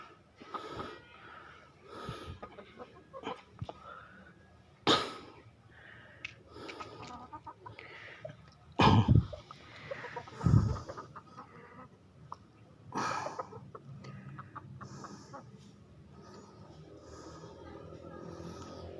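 Chicken clucks and squawks come in bursts amid rustling outdoor noise, with a person talking nearby at times.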